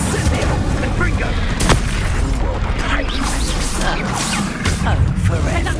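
Fire spell explosions in Hogwarts Legacy roar as a dense, continuous rumble of blasts and crashes, loud and close, with game voices mixed in.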